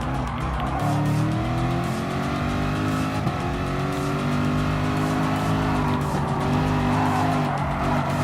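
Race cars from Gran Turismo Sport lap the Autodrome Lago Maggiore circuit, engines droning steadily at high revs with layered pitch sweeps and tire squeal through the corners, loud and continuous throughout.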